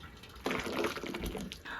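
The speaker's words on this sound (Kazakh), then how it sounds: "қайнаған құртты ыстық қалпында осылай құйып сүземіз" Hot boiled kurt, a salty fermented-milk curd, is poured into a hanging cloth bag for straining, giving a sudden wet splashing gush that continues steadily with close liquid churning and no talk.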